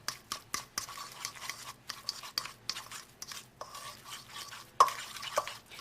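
A fork mashes cooked egg yolk filling for deviled eggs in a bowl, giving repeated close scraping and clicking strokes in an irregular rhythm, with a sharper clink near the end and no talking.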